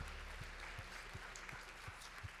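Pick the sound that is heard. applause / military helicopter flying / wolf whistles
applause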